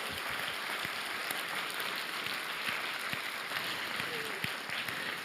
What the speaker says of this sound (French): Je crois qu'on peut les saluer en les applaudissant